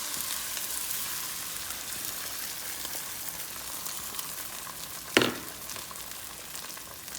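Eggs fry in a pan with a steady, close sizzle that stays even throughout, broken once by a single sharp clack.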